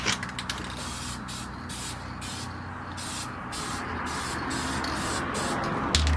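Spray paint applied as a second coat to the plastic front bumper of a Hummer H2, a close hiss broken into repeated short bursts with brief pauses between them.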